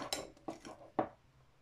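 A utensil stirring slime in a bowl clinks and scrapes a few times in quick, uneven strokes, faint and close, with no talking.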